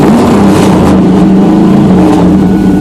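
Pontiac Trans Am WS6 with a 5.7-litre engine running close by, a loud, steady, rumbling drone throughout with no talking.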